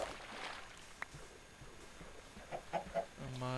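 Chickens cluck in Minecraft, a few soft separate clucks and short bird calls over a quiet game background, spaced out and moderately faint, with a brief tonal game sound near the end.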